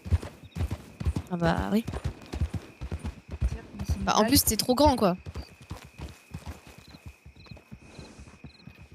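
A ridden horse walks with steady, close clip-clopping hooves throughout, while people talk over the rhythmic hoofbeats.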